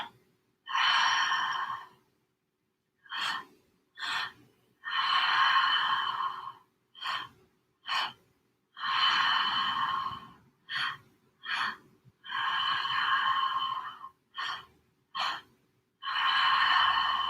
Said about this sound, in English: breathing in and out softly through the nose